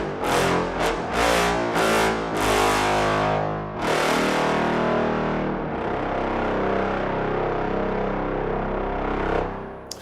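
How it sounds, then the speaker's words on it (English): A brass section of trombones from the Infinite Brass 1.6 virtual instrument plays sustained, loud chords with highs rolled off by EQ, giving a dull, muffled top end, notes swelling and overlapping without pause. "So when it comes to trombones, take the better imaging, better legato, and better pedal tones"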